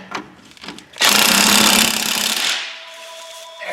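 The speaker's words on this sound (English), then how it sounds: "Now we can tighten the strut." Loud, close power tool rattles and hammers for about a second and a half while tightening a front strut on a Ford Fusion, then winds down into a lingering hum.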